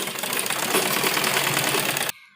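A sewing machine runs fast and steady, stitching the edge of a folded salwar hem in a continuous rattling burst of about two seconds that stops abruptly.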